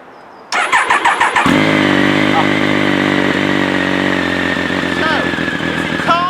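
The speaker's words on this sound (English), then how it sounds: "if you can't hear the engine and the exhaust today, just go back to the start" An engine cranks, catches and fires up, then settles into a steady loud exhaust idle with a rich rumble and occasional revs, close to the microphone.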